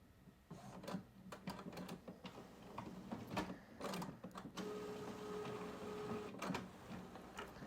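An inkjet printer whirs and clicks through its setup routine, with irregular mechanical ticks and a brief steady motor tone, faint and close with no talking.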